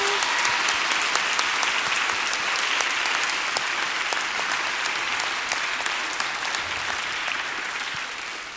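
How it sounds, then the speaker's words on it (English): A crowd at the 2025 Decatur Book Festival gives authors Rebecca Ross and Analeigh Sbrana a sustained round of applause, loud and even throughout and fading slightly near the end. "Can we give them a round of applause?"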